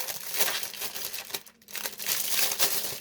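Cardboard packaging of a wax seal kit being opened by hand, with close, crinkly rustling and tearing in bursts, a brief pause midway, then more crumpling, no speech.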